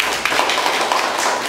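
Applause from a lecture audience at a talk on detective fiction, a dense steady patter of many hands clapping close and continuous through the whole moment, with no voices over it.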